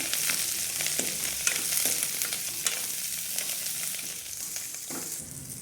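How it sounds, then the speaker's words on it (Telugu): Curry leaves and chana dal seasoning frying in oil in a pan, a steady close sizzle with crackling pops and occasional stirring scrapes, no voices. "ఎర్రగా వేగనివ్వాలి కొంచెం కళ్యామాకు వేసుకోవాలి ఇవన్నీ వేగనిద్దాం"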